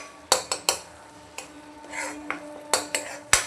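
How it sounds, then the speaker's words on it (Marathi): Drumsticks (moringa pods) dropped into a pan of roasted masala, a few sharp metallic clanks and scrapes against the pan over a faint background sizzle, close and without speech. "आता मी याच्यात शेंगा टाकते."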